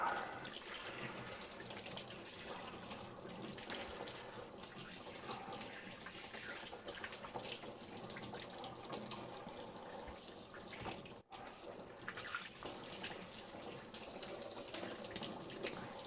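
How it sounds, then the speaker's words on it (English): A kitchen tap runs steadily as hands are rinsed, a continuous close splash into the sink with a brief dip near the end before the flow resumes. "I'm just rinsing them off."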